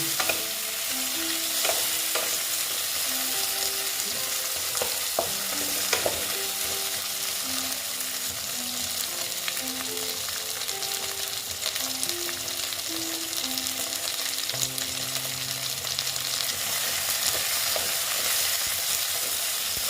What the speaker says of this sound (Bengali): মোটামুটি টমেটোটা আমার মোটামুটি ভাজা হয়েছে